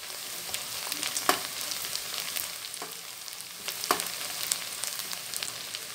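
Whole spices (cumin, star anise, cloves, black pepper, nutmeg, mace) sizzle and crackle in hot oil for an egg curry, a steady close frying hiss with a few sharper pops, no voices.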